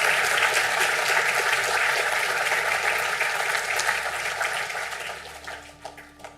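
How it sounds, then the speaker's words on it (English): A crowd applauds two Nursing, Health Science and Disability Studies candidates at a spring conferring ceremony in Sligo, a broad sustained clapping that gradually tapers and thins toward the close. "a round of applause to our 2 candidates from the Nursing, Health Science and Disability Studies"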